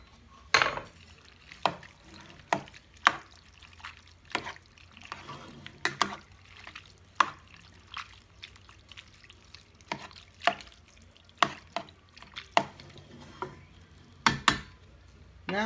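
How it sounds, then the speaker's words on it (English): Vegetable soup with ground beef being stirred in a pot, a spoon scraping and knocking against the sides in irregular, sharp clatters over a faint steady simmer, close by with no talking. "I'm going to stir it up."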